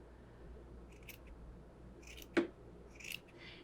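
Scissors cut through the hanging yarn fibers of a paper-plate rainbow wall hanging. Several quiet, close snips are heard, with one sharper cut in the middle, against a near-silent room.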